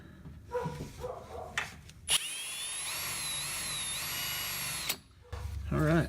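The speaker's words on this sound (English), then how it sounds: "So that's where I'll drill my hole." A power drill with a dull bit bores a hole during a Mustang ghost light install, a steady whining hum for about three seconds that stops abruptly, with speech before and after.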